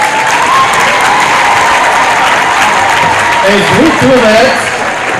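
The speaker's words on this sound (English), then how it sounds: "We'll give ourselves a big round of applause." An audience at a biennial nursing scientific conference applauds loudly and steadily, with dense sustained clapping and some cheering throughout. A voice speaks briefly over it near the end.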